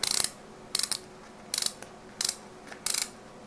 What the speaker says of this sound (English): push this down and twist it to tighten it up